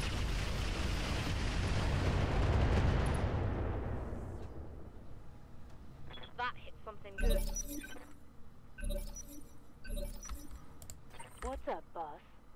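Swarm missiles launched in the Roguetech mod of BattleTech, a loud roaring rush of fire that fades out, followed by scattered sharp impacts and clattering blasts as someone speaks over them.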